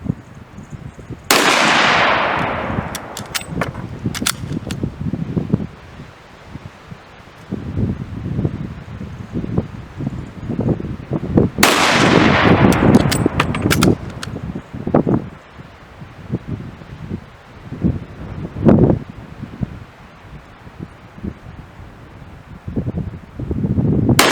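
Two loud gunshots from a CZ 527 Carbine rifle ring out outdoors about ten seconds apart, each with a sharp crack and trailing echo, amid rustling and wind noise.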